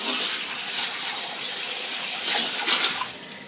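Hands are washed under a steady stream of running water from a tap during cooking, a loud continuous rush and splash with a few brief surges near the end and no talking.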